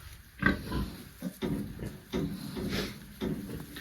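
A castrated young boar pig grunts repeatedly in short, low snuffling bursts, close and fairly quiet, with faint rustling around it.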